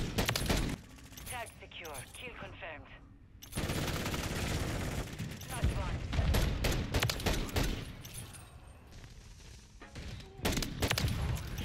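.50 GS pistol fire in a Call of Duty-style shooter on the Shipment map, with sharp gunshots among dense bursts of gunfire and clatter, some shots close and loud, others in the background of a chaotic firefight.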